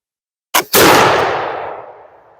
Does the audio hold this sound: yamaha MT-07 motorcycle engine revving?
no